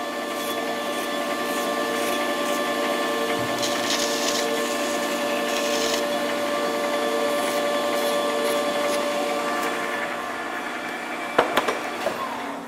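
A metal lathe runs steadily while a cutting tool chamfers the sharp edge of a metal workpiece, giving a continuous even whir with tonal hum and light scraping, ending in a few brief clanks near the end.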